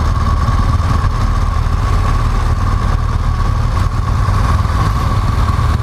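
A motorcycle engine idles steadily up close before moving off, a constant low rumble without pauses and no voices.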